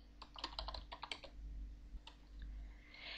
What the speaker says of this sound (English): So by typing give decanter Guinness, I give my decanter of endless water to Moonshine Guinness.